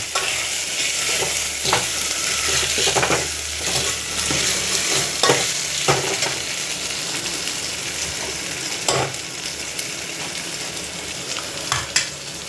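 Potato pieces fry in hot oil with a dense, continuous sizzle, while a spoon scrapes and stirs them in a pan at intervals. The sound is close and loud, with no speech.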